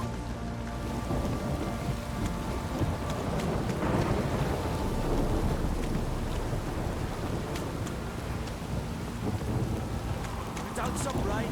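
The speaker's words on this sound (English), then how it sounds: "This downpour's a bastard" Heavy rain pours steadily in The Witcher 3, a dense hiss of drops with deep rumbling thunder rolling underneath, loud and continuous throughout.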